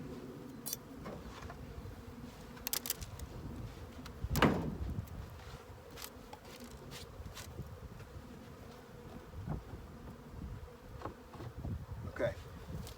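Honey bees buzz steadily inside a hive box, a soft continuous drone with occasional closer passes, and a brief knock or scrape partway through.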